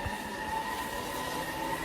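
Electric train running late at night, heard from inside a nearly empty carriage: a steady low rumble with a continuous hum and faint tonal whine, no talk.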